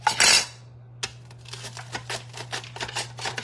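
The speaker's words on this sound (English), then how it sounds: "Let me actually use my mandolin to like slice it." Onion being sliced on a mandolin: a quick rasping stroke, a brief pause, then a run of short uneven scraping cuts, close and fairly loud, with no voices.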